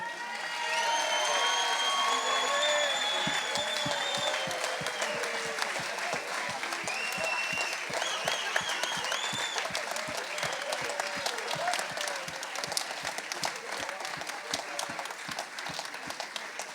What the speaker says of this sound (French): c'est d'abord des applaudissements pour eux.